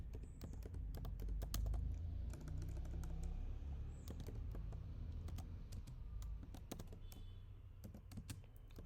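Computer keyboard typing while a web dropdown menu is coded, steady bursts of close, crisp key clicks running throughout with no talking.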